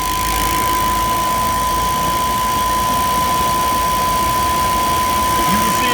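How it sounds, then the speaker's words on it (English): A Chevy/GMC engine idles with a steady, even hum and a fixed tone throughout, heard alone and fairly close. "Motor sound better."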